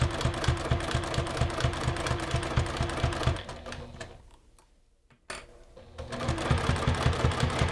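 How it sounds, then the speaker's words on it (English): A domestic sewing machine sews a key fob wristlet at a longer stitch length of about 3, running in a steady rapid rhythmic chatter, pausing briefly midway, then resuming at close range with no talk. "I'm stitching at about stitch length 3 because I think it looks nice when it's a bit longer."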